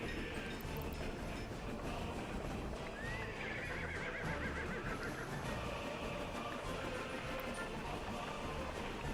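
Horses neighing and hooves clip-clopping in an early-1900s-era building and transport video game, with a faint whinny partway through over a dense, steady background bed of game ambience and distant rumble.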